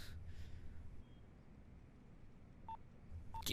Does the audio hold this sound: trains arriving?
no